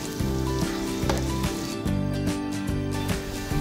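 Bacon frying in a pan with garlic, onions, butter and olive oil, rendering its fat for a savory pie. A continuous close sizzle runs under a steady, rhythmically pulsing hum, with no voices.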